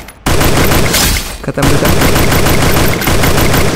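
Rapid automatic gunfire in a Free Fire shooting-game fight blasts loudly and almost without pause, over excited voices that shout briefly.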